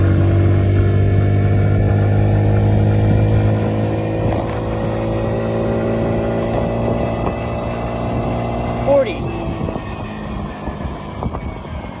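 A Honda Navi scooter fitted with an upgraded variator and clutch drones steadily as it climbs a hill, its engine tone shifting as it pulls, with wind buffeting the microphone.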